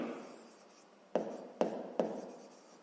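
Pen writing on paper during a sixth-grade math exercise, a soft scratching stroke followed by three sharp taps or quick strokes, close and quiet with no voices.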